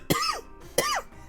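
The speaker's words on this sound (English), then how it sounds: "Ignore the cough." Two sharp coughs from one person, close and distinct, spaced about half a second apart, each with a harsh burst and a quick falling tail.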